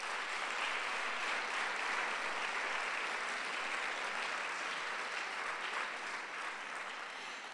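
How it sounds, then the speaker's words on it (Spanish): Sustained, even applause from a large audience at the University of Salamanca's university sports awards gala: a continuous roar of many hands clapping for several seconds, with no speech. "A todos ellos un fortísimo aplauso y muchas gracias."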